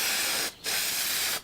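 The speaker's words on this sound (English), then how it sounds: "if you turn it slightly, it may start spraying for you" Aerosol spray can hissing in two close bursts, a long steady spray, a short break, then a second spray that cuts off.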